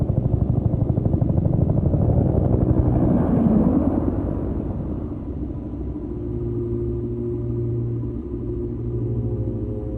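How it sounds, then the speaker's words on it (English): A deep, rumbling video game helicopter drone builds and swells, rotor thrum growing louder before settling into a steady low roar with a humming tone. "Is that the evac chopper?"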